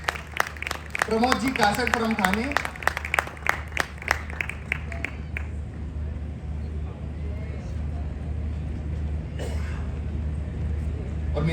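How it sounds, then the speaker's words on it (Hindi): Applause from an audience at a business seminar, with a man announcing names over it; the clapping is dense at first, then fades under the continuing voice and room noise. "तालियों की गड़गड़ाहट फिर से।"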